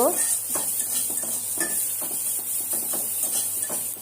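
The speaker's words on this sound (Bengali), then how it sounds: "কালো জিরে, পেঁয়াজ, শুকনো মরিচ দিয়ে আমি একটু ভেজে নিচ্ছি" Black cumin, onion and dried chilli fry in hot oil with a steady crackling sizzle, while a spatula scrapes and clinks against the pan in a repeated stirring rhythm, close and fairly loud.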